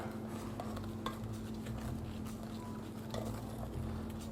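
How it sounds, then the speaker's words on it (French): Hot lemon juice being stirred quickly into an egg and sugar mixture for a millefeuille cream, a steady scraping and clinking of a whisk or spoon against a bowl over a constant low hum. "Je vais pour ça l'ajouter à mon mélange. Je le mélange rapidement"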